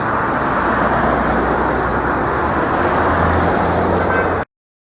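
Steady, loud roadway traffic along a busy road with no signs or lights, a continuous engine and tire roar with vehicles passing close by and no pause.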